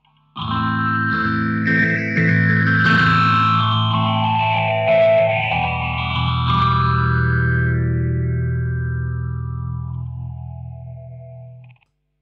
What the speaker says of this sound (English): so I use my Boss Super Phaser, which is a 12-stage phaser as well